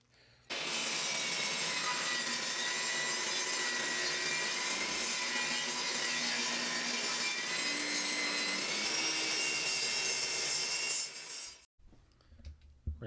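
A saw cuts through a glued-up pine board for a kitchen utensil hanger, with steady, loud, continuous rasping strokes lasting about eleven seconds before stopping abruptly and leaving faint handling noises.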